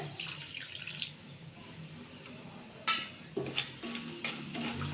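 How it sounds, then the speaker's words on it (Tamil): Water poured from a tap into a pan to dissolve jaggery for coconut laddu, with splashing bursts and clinks of metal cookware, fairly faint and close in a quiet kitchen. "வெள்ளம் கரையிறதுக்கு கொஞ்சமாக தண்ணி சேர்த்துக்கிறேன்"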